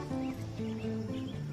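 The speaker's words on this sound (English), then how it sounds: "Cassie, hold the horse." A horse in an outdoor period scene gives short rhythmic clip-clop steps and snorting tones, moderately close and fairly loud, with no talk over it.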